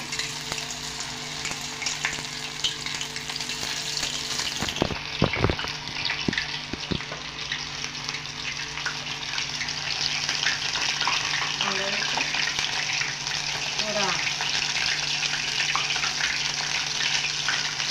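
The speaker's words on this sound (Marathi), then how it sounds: "पाणी राहिल्यामुळे असं तडतडतं" Soya chunks frying piece by piece in hot oil, a dense close sizzle broken by several sharp crackling pops from leftover water, with the bubbling rising again later on.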